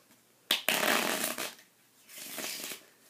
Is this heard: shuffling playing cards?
yes